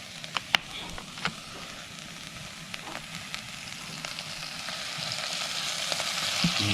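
Grasshoppers frying in cooking oil, a steady close sizzle with a few sharp pops and light stirring taps early on, the crackle growing slightly louder toward the end.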